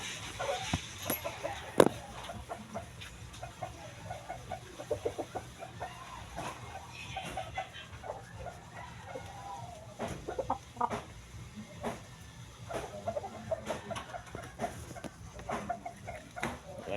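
Chickens at a backyard coop cluck steadily and close by, with scattered short calls and occasional louder squawks over a low constant background murmur.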